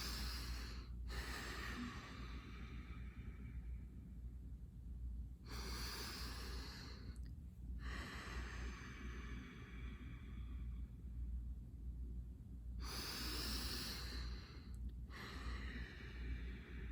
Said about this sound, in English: inhale, and as you exhale, imagine pushing all that breath up into the corner of the room